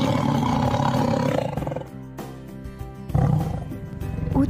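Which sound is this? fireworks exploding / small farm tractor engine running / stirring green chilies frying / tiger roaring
tiger roaring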